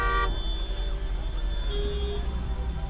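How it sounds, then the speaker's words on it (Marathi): Congested road traffic in Manali, with a car horn honking sharply at the start and another tone sounding later over a constant low rumble of idling engines. "ट्रॅफिक वर ट्रॅफिक."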